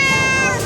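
A stray cat near Gondangdia train station in central Jakarta lets out a single drawn-out meow, loud and close, with faint background noise.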